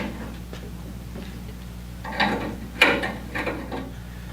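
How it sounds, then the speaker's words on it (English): A ratchet wrench loosens bolts and nuts on the manifold of a 1930s Wayne 60 gas pump, giving quiet, close clicking bursts with a few louder metallic clanks over a low steady background hum. "we're going to take these bolts and nuts off of here to release this manifold"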